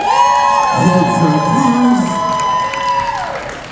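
A Halloween Comic-Con crowd cheers and whoops, loud and sustained, with shouting voices and some clapping, alongside a held tonal sound.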